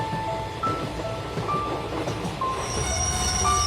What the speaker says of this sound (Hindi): ट्रेन मोहनपुर स्टेशन पर आके रुकती है।